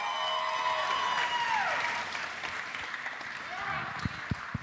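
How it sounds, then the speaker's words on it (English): A convention crowd at a Nerd HQ panel claps as Vin Diesel, Katee Sackhoff and David Twohy leave the stage, applause and cheering swelling and then thinning, with voices and a few sharp nearby claps near the end. "Let's clap them off the stage"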